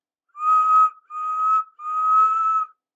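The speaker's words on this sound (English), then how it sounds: ""Yes, I am," whistled Henry" A steam locomotive's whistle, a tank engine in a 1968 children's railway story, gives three clear, loud tonal blasts in quick succession, each held about half a second, with no talking.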